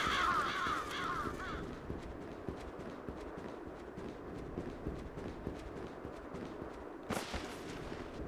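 Crows in the video game Bloodstained: Ritual of the Night, faint caws heard over a game soundscape of repeated clopping footsteps and soft thuds, with a sharp burst near the end.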